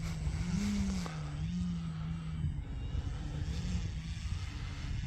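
An FMS Pitts RC model airplane taxis back across grass, with its propeller motor giving a steady buzzing drone and a few brief pitch swells.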